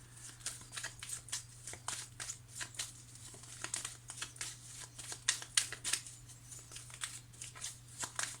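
Tarot cards shuffled for a reading, a quiet, close run of papery crinkles, flicks and rustles in quick irregular bursts, briefly sharper in the middle, over a low steady hum with no talking.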